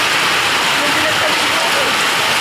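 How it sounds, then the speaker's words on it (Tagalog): Heavy rain pours down in a dense, steady roar, loud and unbroken throughout, heard in the early morning. "Sobrang lakas talaga ng ulan."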